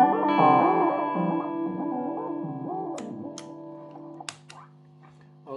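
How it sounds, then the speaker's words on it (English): Guitar notes ring out through a DIY modular delay effect, repeating echoes trailing behind each phrase, followed by a few sharp clicks and fading repeats. "This is the normal delay, and I also can control the delay time with the sequencer."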